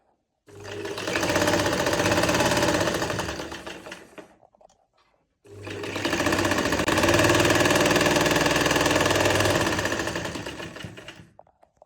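Sewing machine stitching the side seam of a garment in two long runs, a fast steady whirring hum that stops briefly in the middle before starting up again.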